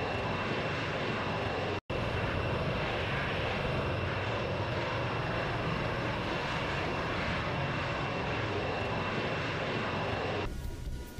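Aircraft engine drone from a plane in the combat flight game Tiny Combat Arena, a steady loud roar that holds almost unbroken, with one abrupt cut near the start, and no talk.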